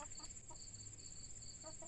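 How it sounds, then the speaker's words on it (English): A retired hen clucks faintly in short scattered bursts, with a steady high-pitched whine running through the background. "It's the last chicken we got."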